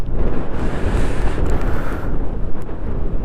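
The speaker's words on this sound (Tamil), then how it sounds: "அந்தளவுக்கு தான் காற்றடிக்குது." Strong wind roars in continuous heavy gusts across the microphone at an open hilltop viewpoint on a ride from Kodaikanal to Munnar, loud and unbroken with no voice.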